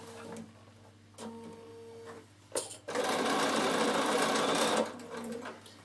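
A sewing machine stitches a fabric travel pouch in short bursts: a few brief whirring starts and stops, then a longer sustained run of rapid stitching, close and moderately loud with no voices.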